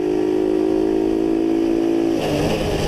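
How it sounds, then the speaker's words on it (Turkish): A Kuba Dragon 50 110cc motorcycle engine holds a steady high-pitched drone, then its revs fall sharply after shifting up from second to third gear, close and loud. "Mesela bakın 2 bitti 3'e attım devir çok düşüyor."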